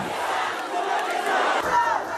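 A rioting crowd in Guyana massed in front of the prefecture, shouting and roaring together in a dense, loud, continuous din.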